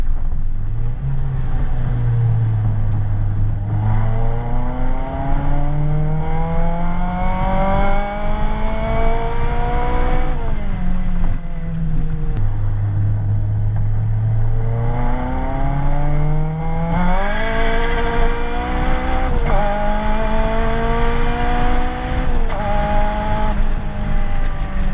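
A K-swapped Mini Cooper accelerates hard on a nitrous test hit, its engine note climbing steadily through the gears with sharp shift drops, loud and close throughout with no talking.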